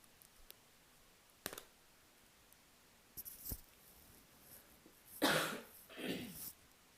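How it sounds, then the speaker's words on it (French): Several muffled coughs in a quiet room: a short one early, a couple around the middle, then a stronger double cough near the end. "je vais devoir tousser et je m'en excuse"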